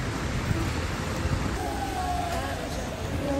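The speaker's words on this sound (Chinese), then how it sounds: "又下雨" Steady rain hisses evenly and continuously throughout, a dense wash of falling drops with a faint thin tone passing midway and no clear voices.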